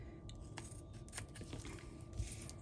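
Scissors cut through crafting paper for a stamping project, several quick close snips in a steady rhythm over a faint background hum, no talk.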